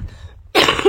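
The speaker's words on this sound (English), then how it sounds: "I'm coughing all my entire life." A single loud, harsh cough bursts out close up after a quiet moment with faint background tone, lasting under half a second.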